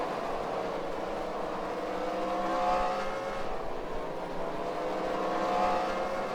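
Race cars finish at Bowman Gray, engines droning and revving in a continuous wash of sound at moderate distance, with no talk over it.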